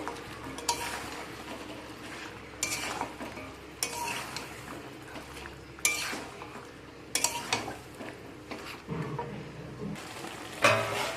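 Chopped onions, three cut into large chunks, being stirred into a cooking mixture in a pan, with repeated scraping strokes and a soft sizzle, in bursts about every one to two seconds.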